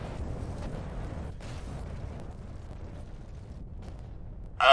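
Explosion in Kerbal Space Program with a weapons mod: a sustained low rumbling roar of debris and blast that slowly fades over several seconds, ending with a brighter burst, no speech.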